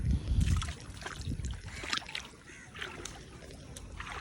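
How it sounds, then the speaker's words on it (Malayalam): Floodwater runs knee-deep across flooded land at Tirur Kakkadavu, making a soft, continuous rushing and sloshing that is fairly quiet and close by, with a few brief splashes. "വെള്ളം നല്ല ഒഴുകുന്നുണ്ട്"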